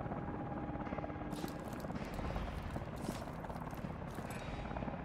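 Military helicopter in the Call of Duty: Advanced Warfare video game, a steady dense rotor and engine rumble filling the whole stretch at moderate level, with busy broadband noise and faint background game sounds.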